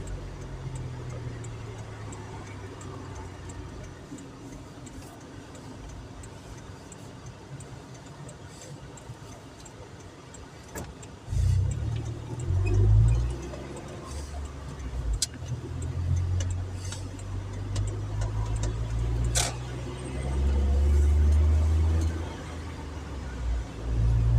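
Car driving on a Polish national road detour near Częstochowa, heard from inside as a steady low engine and road rumble that swells louder with acceleration in the second half, with occasional clicks and no talk.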